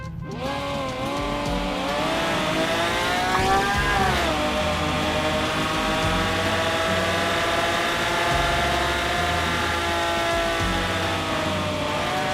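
Car engine revving hard in a racing video game, a loud sustained harmonic whine that climbs, drops and climbs again as it accelerates, with no talk over it.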